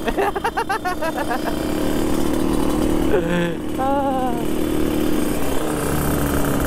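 Crowd of two-stroke motorcycles at a Ramadan riders' meetup in Makassar, engines idling and revving in a continuous loud drone with sharp rhythmic revs early on, while voices talk nearby.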